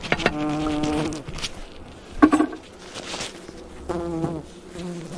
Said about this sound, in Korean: 벌소리를